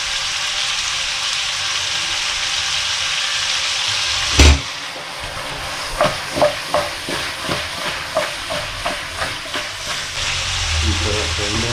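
Masala frying in hot oil with turmeric and salt for a chicken masala sizzles steadily. A sharp clatter cuts in partway through, followed by a run of rhythmic scraping stir strokes over the hiss.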